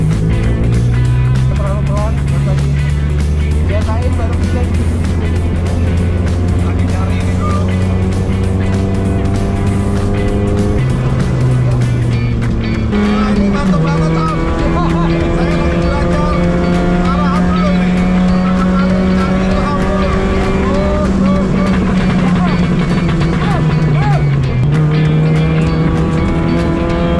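Race car driving on a track, heard from on board: a loud, sustained engine drone that climbs through the revs and drops at each gear change, steady throughout.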